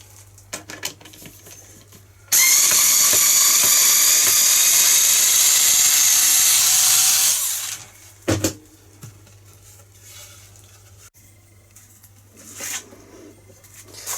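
A handheld router cuts two vent holes in an assembled cabinet in place, a loud steady high whine running about five seconds with brief clatter of debris afterward.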